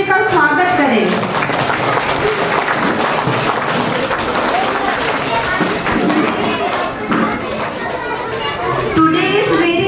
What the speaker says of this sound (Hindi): हम ताली बजाकर एक दूसरे का स्वागत करें।